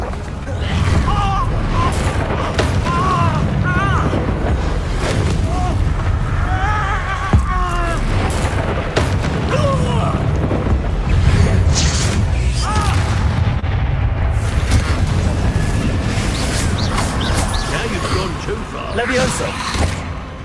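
Spell blasts, including the Incendio fire spell, boom and crackle in a Hogwarts Legacy battle, dense and loud throughout, with a voice shouting spell names over the constant barrage of impacts.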